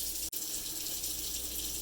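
Tap water pours steadily into a pot being filled for boiling pasta, a dense continuous hiss and rush of running water at close range with one brief dip near the start.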